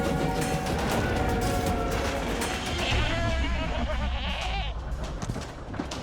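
A goat in the video game My Time at Sandrock bleats repeatedly in wavering calls over busy game sounds and mechanical noise, fairly loud and near.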